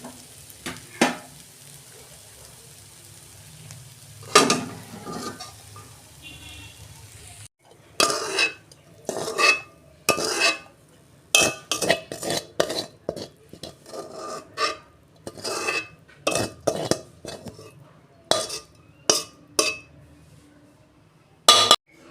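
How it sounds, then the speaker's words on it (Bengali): Quiet sizzling at first, then a run of sharp scraping and clinking strokes as a utensil stirs and tips food from a metal pan, in irregular bursts. "নেড়ে চেড়ে ভেজে নিয়েছি এবার ঢেলে ফেলছি"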